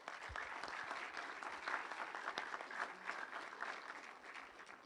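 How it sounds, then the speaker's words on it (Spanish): Audience applauding speakers at a Ministry of Justice lecture, a steady, moderately distant wash of clapping that holds for the whole stretch without any voices over it. "un fuerte aplauso para nuestros expositores"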